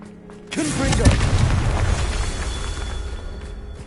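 A Confringo fire spell bursts in the Hogwarts Legacy video game: a sharp, loud explosion that rolls into a long rumbling tail, with a short low hum before the blast.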